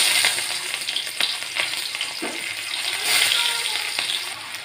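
Chopped onion with dried red chilli and cumin frying in hot oil, a steady broadband sizzle with occasional stirring clicks, close and fairly loud with no talk.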